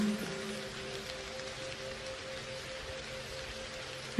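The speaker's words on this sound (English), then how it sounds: "Now just enjoy the sound of the rain" Steady rain falls with an even, hissing patter that stays constant throughout, joined by a faint low tonal hum in the background.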